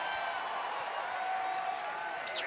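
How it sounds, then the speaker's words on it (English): A convention crowd at Star Wars Celebration Anaheim 2015 cheers and applauds for R2-D2 and BB-8, a continuous dense roar of hands and voices with a thin whistle riding on top. "We'll give R2 and BB-8 and Oliver and Lee a round of applause."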